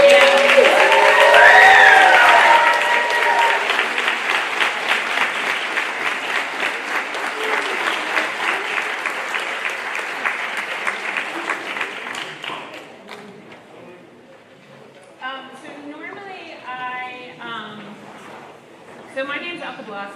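High school student body cheers and applauds the senior class at a graduation-season assembly, starting with loud whoops over thick clapping that gradually thins out, followed by scattered voices.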